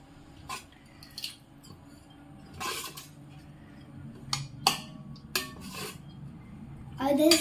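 A spoon stirs biryani inside an electric cooker pot, making scattered metallic scrapes and clinks of varying loudness up close. A faint voice can be heard occasionally beneath the stirring.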